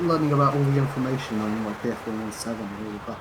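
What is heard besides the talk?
No everyday noise stands out behind the speech.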